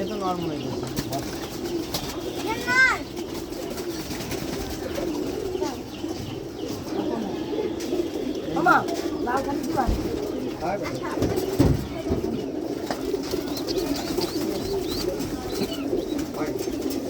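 Pigeons in a cage coo in low, repeated murmurs with occasional wing flutters, a continuous close chorus with voices now and then.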